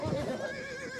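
A horse in the PS2 western video game Gun neighs and whinnies in agitation, a loud, continuous shrill cry over game noise, with no talking.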